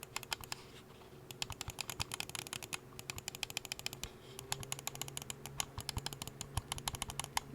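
A Razer DeathAdder V3 Pro mouse gives rapid, close clicks in a steady crisp patter that pauses briefly once and then resumes.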